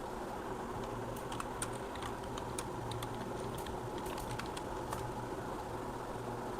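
Python code being typed on a computer keyboard: steady, rapid key clicks at close range over a constant low background hum, with no talking.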